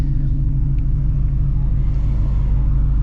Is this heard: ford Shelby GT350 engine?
yes